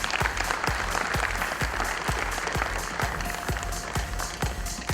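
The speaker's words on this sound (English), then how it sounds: "A big round of applause, please." Audience applause for panelists at an HR conference in Pune fills the hall, steady, dense clapping from a crowd with a few sharp individual claps standing out.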